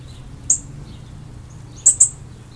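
A pet bird gives three sharp, high chirps, one alone and then a quick pair, over a quiet indoor background.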